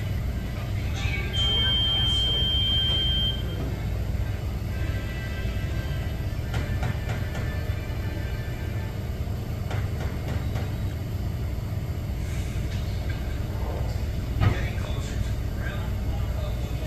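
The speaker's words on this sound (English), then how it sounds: "Just a grain train." A westbound Union Pacific grain train with a CSX SD70MAC unit passes at Marana, Arizona, a steady rolling rumble of railcars that stays even throughout, with a brief high tone near the start.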